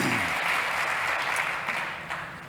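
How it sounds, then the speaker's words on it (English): Audience applause at a startup pitch competition, a full, steady wash of clapping that tapers slightly toward the end, with no talking over it. "Ladies and gents, a big round of applause one more time."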